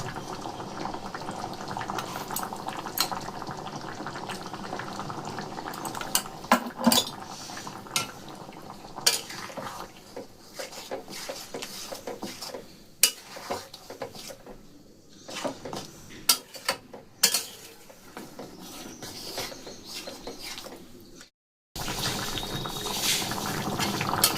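A pot of mixture boils with steady, busy bubbling, broken by frequent sharp clinks and scrapes of a utensil against the pot, then a brief gap before the bubbling resumes.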